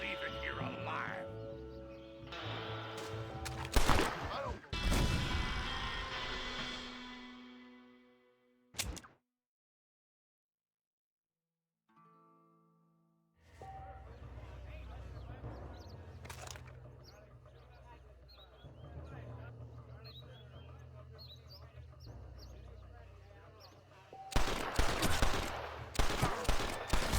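Gunfight in the Western game Red Dead Redemption: sharp gunshot bursts and volleys with game dialogue and other sounds around them, a near-silent pause midway, then more loud shots at the end.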